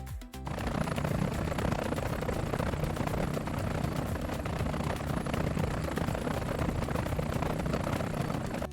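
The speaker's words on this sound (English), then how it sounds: "H is for helicopter, zooming by." An animated helicopter sound effect zooms by, with a steady, loud, dense rotor-and-engine roar that holds at a constant level throughout.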